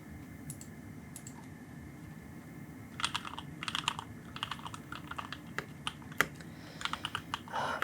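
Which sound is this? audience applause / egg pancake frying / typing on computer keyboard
typing on computer keyboard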